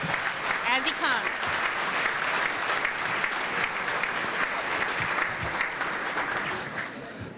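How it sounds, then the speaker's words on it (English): Audience at a Martin Luther King Jr. memorial breakfast giving a sustained round of applause for an arriving speaker, dense and steady, with scattered voices and cheers mixed in before it tapers at the end. "Let's give him a round of applause as he comes."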